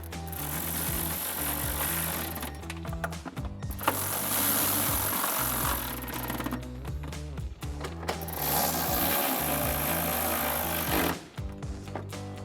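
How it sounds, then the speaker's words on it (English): A 13 mm socket on a power driver runs in bursts to tighten bolts on a Toyota 4Runner air intake, loud rattling whirs separated by short pauses, close and with no speech. "we're gonna take a 13 millimeter socket to tighten all of those down"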